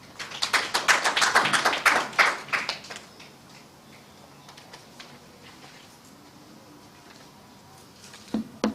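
Scattered audience clapping at a national dialogue conference on contingency planning and funding, brief and uneven for a couple of seconds, then a quiet room with faint murmurs and a few final claps near the end.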